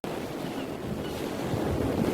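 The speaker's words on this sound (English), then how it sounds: "Nothing like the ocean." Ocean waves and surf wash continuously in an AI-generated seaside scene, a broad steady roar with wind buffeting the microphone and no voices.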